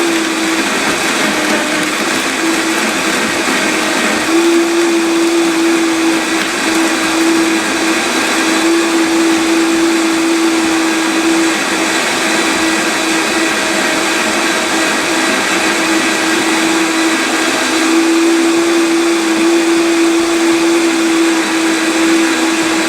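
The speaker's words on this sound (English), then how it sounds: "Make sure your blender is closed properly." A blender whirs continuously at high speed while blending a spicy coating for kale chips, a loud steady motor whine with no talking.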